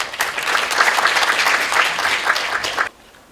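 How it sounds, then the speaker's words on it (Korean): An audience at an accounting society symposium claps steadily for about three seconds in a dense, close, loud burst of applause that then cuts off abruptly into near silence. "박수로 맞아주시면 감사하겠습니다"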